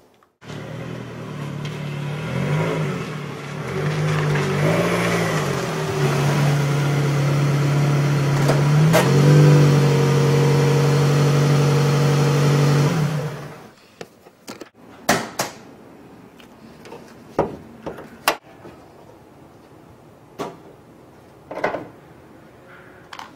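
A car engine hums and rises as the car drives forward up onto a driveway, then cuts off, leaving scattered clicks and knocks.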